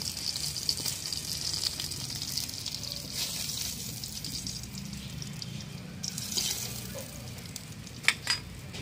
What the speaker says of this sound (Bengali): মাছগুলো ভাজা হয়ে গেছে, এবার ভাজা মাছগুলো আমি শাকের মধ্যেই তুলে নেব